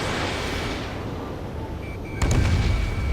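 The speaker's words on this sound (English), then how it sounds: "They're bombing us." Bombing explosions in the Ace Combat 7 video game, set during an air-raid mission over a lost kingdom: a steady rumbling barrage that swells into a louder, heavier boom with deep low-end thunder near the end, with no talk.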